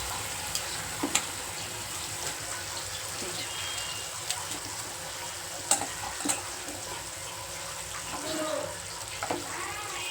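Pieces of fish fried in oil in a pan on a low gas flame, a steady soft sizzle with occasional clinks and stirring sounds close by, and someone speaking now and then over it.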